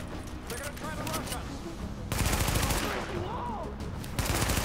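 Bursts of automatic gunfire in The Division on PS4, rapid rattling volleys with a couple of louder surges, heard under game music and effects.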